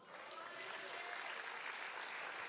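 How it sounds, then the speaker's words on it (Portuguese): A church congregation applauds in a brief burst of dense, distant-sounding clapping, a faint wash of hands lasting a couple of seconds. "Pode aplaudir Jesus."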